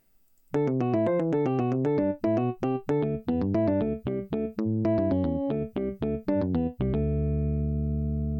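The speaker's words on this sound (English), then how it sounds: "with the guitar part, it sounds like this" Guitar part from a prog rock track playing on its own: a quick run of plucked notes in an even, driving rhythm, then a final chord left to ring out.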